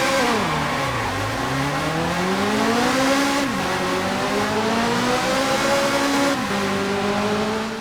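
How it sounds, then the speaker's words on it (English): A Ferrari's engine revs hard in a racing video game, its pitch sweeping up through the gears and dropping sharply at each shift, loud, steady and close throughout with no talking. "I'll never get tired of that engine, or this car, or these tracks"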